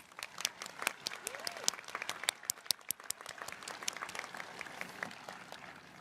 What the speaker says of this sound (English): Please join me in applauding their contributions to the college.